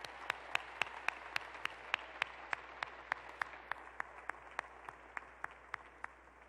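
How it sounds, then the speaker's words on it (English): Faint, distant applause at a December 2017 Winthrop University commencement ceremony, a steady run of evenly spaced claps heard from far across a large hall. "Please give Dr. Lori Crochet and the Winthrop Commencement Band a round of applause for their wonderful concert"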